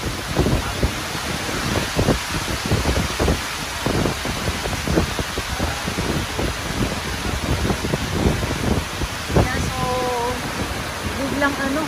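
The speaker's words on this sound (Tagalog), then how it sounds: "Biglang lumakas ang ulan." Heavy typhoon rain pours over Manila Bay during Typhoon Carina as a dense, unbroken roar with gusty surges, and a voice breaks in briefly near the end.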